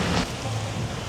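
Steady rain hissing across a surface, a dense, even wash of noise with a low rumble underneath and no speech.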